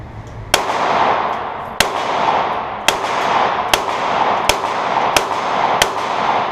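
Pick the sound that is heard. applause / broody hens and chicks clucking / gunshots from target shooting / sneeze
gunshots from target shooting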